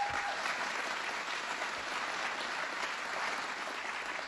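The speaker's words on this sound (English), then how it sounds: "Let's give him a round of applause." Sustained audience applause at a Rockland County civic gathering, a dense, steady roar of many hands clapping throughout with no break.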